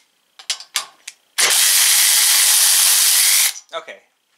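Avid Power 12V 3/8-inch cordless ratchet wrench (ACRW106) running in one steady, loud two-second whir, with short mechanical clicks and knocks just before and after it, close to the mic.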